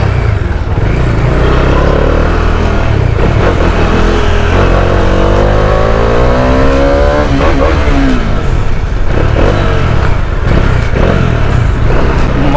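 A Bajaj Dominar 400 motorcycle engine revs hard during a test ride, loud and close, its pitch sweeping up through aggressive acceleration and dropping between throttle bursts over steady riding and wind noise.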